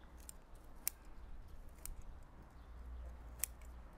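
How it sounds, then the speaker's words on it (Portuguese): Sharp snips of pruning scissors cutting Zelkova serrata bonsai shoots, three distinct close cuts spaced about a second apart over a quiet, low hum. "Tem que afiar, tem que afiar esta tesoura."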